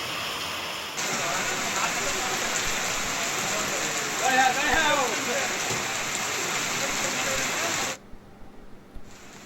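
Heavy rain pouring in Hyderabad, a dense steady hiss of downpour that stays loud and even for several seconds before cutting off abruptly near the end.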